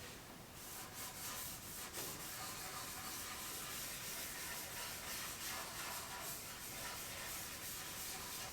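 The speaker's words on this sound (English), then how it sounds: "wipe down the entire surface with your tack cloth" A tack cloth rubs over a sanded wooden bench board in steady, soft swishing strokes, a continuous dry hiss close up.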